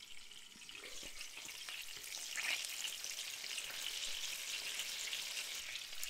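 Meat patties frying in a pan, a soft, even sizzle with faint crackle and bubbling, quiet and close, with no voices.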